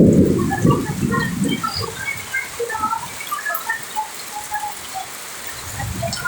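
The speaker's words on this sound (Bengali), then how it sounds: "দেখেন কি সুন্দর বৃষ্টি হচ্ছে, রিমঝিম বৃষ্টি হচ্ছে" Steady rain in Sylhet, Bangladesh, falling with scattered droplet patter and a low rumble at the start and end, fairly close, with no one speaking.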